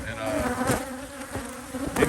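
Honey bees swarm around hives in an apiary, a dense, close buzzing with wingbeat tones rising and falling as individual bees fly near.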